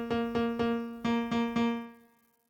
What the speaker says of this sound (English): Next we're going to add another piano